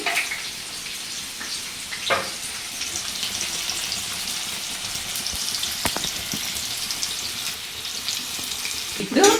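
Onion and green chillies frying in a pan over high flame, a continuous close hiss of sizzling oil with a few brief clinks and scrapes scattered through it.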